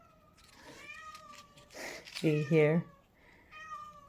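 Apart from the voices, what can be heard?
cat meowing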